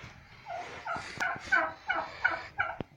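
Several broody domestic turkey hens on a nest gobble and chatter in repeated short bursts, close and fairly loud, with a few sharp clicks between calls and no talking.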